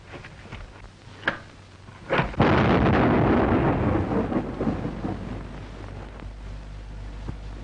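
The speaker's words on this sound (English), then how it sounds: "Explosion." A sudden loud explosion bursts after a couple of sharp bangs, then a long rolling boom fades slowly.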